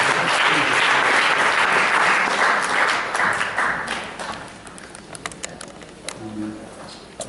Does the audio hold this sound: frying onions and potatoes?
no